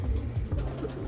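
Racing pigeons in a loft give low, soft cooing that rolls on steadily through the whole moment, close and fairly quiet, with no one talking.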